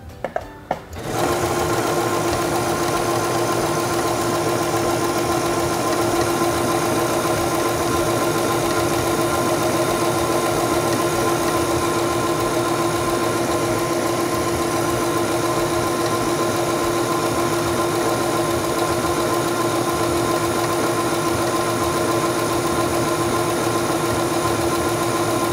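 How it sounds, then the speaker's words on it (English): A Singer Stylist 7258 sewing machine stitches fabric in a steady, continuous motorized whir that holds evenly loud for about twenty-five seconds after a brief start, with no talking. "I'm going to place my fabric back under the presser foot, lower the presser foot,"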